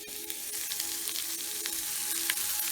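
Peppers and other vegetables sizzle steadily in a hot pan, a continuous close frying crackle with occasional sharper pops and no talking.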